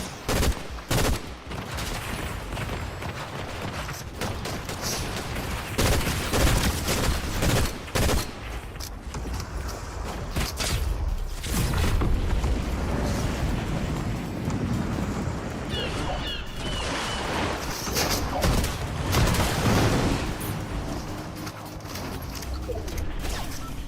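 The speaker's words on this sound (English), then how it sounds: "You're shooting at me." Rapid bursts of gunfire from shooting in a video game crackle through a busy stretch, volleys recurring with short gaps under a loud, dense mix with occasional crashes and mechanical noise.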